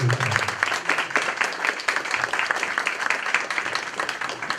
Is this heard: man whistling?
no